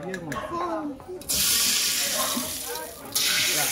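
Water runs steadily into a cooking pot while macaroni is being prepared, a continuous hissing pour with a brief pause partway, following some speech at the start.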